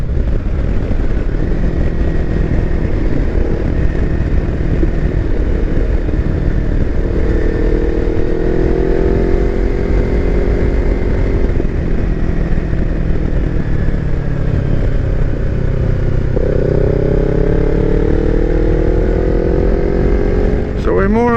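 A Kawasaki Versys X300 motorcycle heard from the rider's position on a road ride, a loud continuous engine drone with wind rumble and gear-shift pitch changes; a voice talks intermittently over it.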